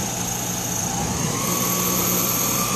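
A Sherline lathe spindle motor runs steadily throughout, a continuous whining hum with a faint rising tone as the speed changes, close and alone with no voices.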